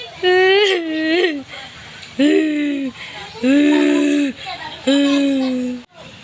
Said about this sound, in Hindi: वो आवाज़ रोते रोते एक औरत की आवाज़ की तरह रोते रोते भयंकर आवाज़ में बदल जाती है